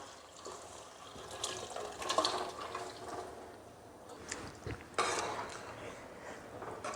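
Cooked mutton and its cooking water are poured into a pan for Chettinad gravy, giving faint liquid splashes and sloshing with a couple of brief, louder pours and light pan clatter.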